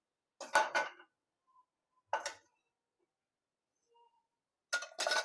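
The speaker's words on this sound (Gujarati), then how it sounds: "આપણે ચીકીને છે ને એક પ્લેટમાં જ લઈ લઈશું" Mamra chikki, a puffed-rice brittle, set onto a plate: a few sharp clinks and taps in short separate bursts, close and clear against a quiet room.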